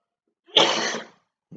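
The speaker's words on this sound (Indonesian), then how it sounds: "Maaf, batuk lagi." One sharp, harsh cough bursts out nearby, followed by a short silence and the start of another faint sound.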